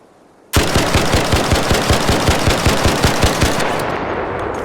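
A rapid-fire weapon in a video game lets off a loud, sustained automatic burst of evenly spaced shots, about four per second, ending in a ringing tail.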